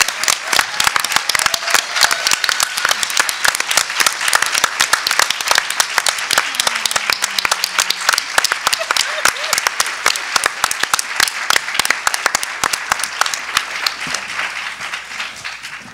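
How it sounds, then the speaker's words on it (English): Sustained, loud audience applause at an MLK tribute event, a steady dense clatter of many hands that runs for about sixteen seconds, with a few voices faintly under it, before tapering off at the end. "give my soulmate a much-deserved round of applause"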